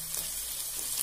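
Chopped onions frying in a pan for a peas chutney, giving a steady, close sizzle throughout with no talk.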